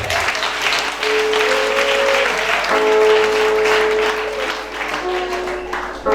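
A church congregation applauds in sustained, dense clapping that fills the whole stretch at high volume, with sung or held tones running underneath.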